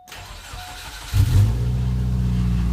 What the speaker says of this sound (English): Flip up ignition, push button start.